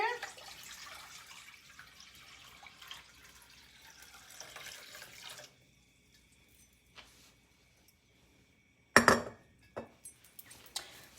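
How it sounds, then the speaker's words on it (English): Water pours from a container into a 3-quart pot on a stove, making a soft splashing stream for about five seconds. After a quiet pause, a couple of sharp metallic clanks follow close by. "Pour my water in here."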